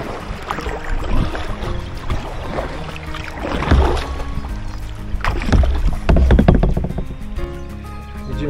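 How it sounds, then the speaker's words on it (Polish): A kayak is paddled down the Wierzyca river, with repeated close paddle splashes and dips in an irregular rhythm over flowing, rushing water and occasional knocks against the hull. "I teraz zwalniamy, przekierowujemy kajak"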